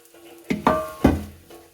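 Beans leaves and crushed coconut dropped into hot coconut oil for a leaf thoran, giving a few close stirring scrapes and soft sizzling bursts, with no voices.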